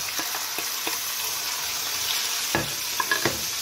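Squid sizzle and fry in oil in a pan, a constant bright hiss broken by irregular clicks and stirring scrapes, steady and close.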